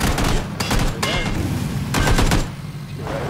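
Rapid video game gunfire in loud bursts and fusillades, close and dense, with faint voices underneath.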